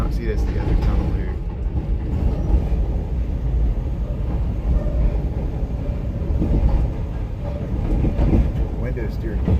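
Chicago CTA Blue Line subway train rumbling through a tunnel, seen from the rear car, a loud steady low roar with rattling wheel noise throughout, faint voices underneath.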